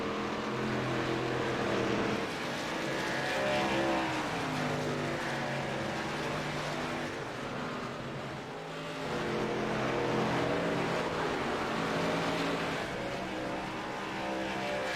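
Cars race at a track during a Coffee Cup Nitro Series event, the Whiskey Cold Brew 100 at The Rock, with engines droning and sweeping in pitch as they pass, loud and sustained throughout.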